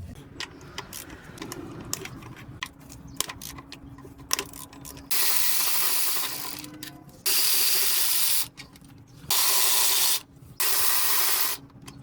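A ratchet works loose the 12mm nuts and bolts holding the throttle body on a 2015 Honda Pilot. First come scattered close clicks and metallic taps, then several loud bursts of rapid ratcheting separated by short pauses.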